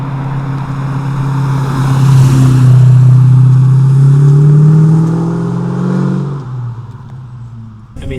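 Stroked LS-based V8, about 427 cubic inches and similar to an LS7, in a 1967 Pontiac Firebird, revving up to a loud, deep sustained roar that peaks mid-clip, then falls back toward idle before a brief blip.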